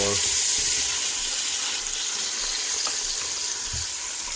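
Celery stalks cooking down in a pan give a loud, steady, close hiss of sizzling, with faint stirring scrapes and no voices.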